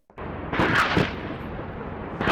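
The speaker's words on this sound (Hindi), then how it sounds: "घोड़ों की टापों की गूंज, विशाल तोपों की गर्जना और युद्ध के नगाड़ों की आवाज।" Cannon fire from a battle sound effect, a heavy booming blast that rolls on in a sustained roar for about two seconds, with another blast beginning at the very end.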